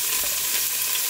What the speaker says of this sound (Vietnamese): Mình xào củ hành khoảng chừng 1 phút rồi sau đó mới cho tỏi vô.